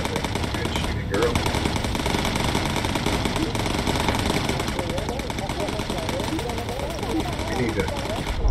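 Rapid machine gun fire from the Bomber Crew video game rattles continuously and loudly over game background noise, with a brief pause near the start and someone talking over part of it.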